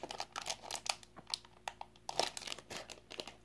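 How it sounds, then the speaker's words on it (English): Plastic packaging crinkling and rustling as an NHL Teeny Mates series 2 blind pack is opened, with irregular crackly bursts close to the microphone and no speech. "Probably hearing a bunch of crinkling."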